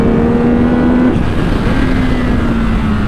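A 2025 Yamaha R9 sportbike on a race track pulls hard with a loud, close engine drone, a brief dip in pitch around one second, then a steady rising howl mixed with wind rush.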